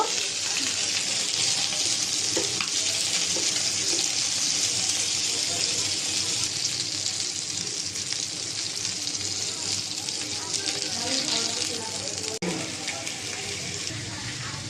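Two rohu fish heads frying in hot oil in a home kitchen pan, a steady broad crackling sizzle that runs loud and continuous throughout, with faint scattered clatter underneath.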